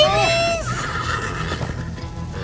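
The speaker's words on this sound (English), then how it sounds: "Get on a horse." Horses neighing in the Minecraft Story Mode video game, a loud whinny at the start followed by snorts and clip-clop movement, with a person talking throughout.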